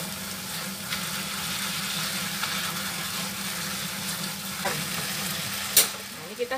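Steady sizzling of flat rice noodles (kwetiau) frying in a hot wok after soy sauce is added, with stirring scrapes and a couple of sharper clatters near the end.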